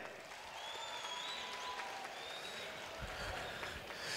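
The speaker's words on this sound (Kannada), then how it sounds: "ಈ ಟಾಪರ್ಸ್ಗೆ ನಿಮ್ಮ ಜೋರು ಚಪ್ಪಾಳೆ" An audience applauding the toppers at a school felicitation event, soft, steady clapping from a crowd that stays even for the whole stretch, with a few sharper claps near the end.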